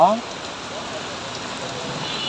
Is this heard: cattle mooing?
no